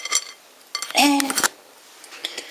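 Pie filling with butter gets stirred in a bowl, giving a few brief clinks and scrapes of a utensil against the dish between quiet pauses, with a voice talking nearby.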